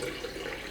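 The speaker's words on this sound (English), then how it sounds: "Fill it up with water," Water pours steadily into a potted hoya plant during repotting, a continuous close splashing rush with no pauses.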